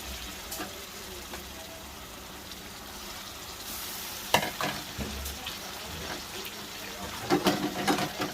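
Steady low frying sizzle of ginger-garlic, cumin and onion paste in a pan, with occasional clinks and stirring scrapes, a couple of sharper knocks near the end.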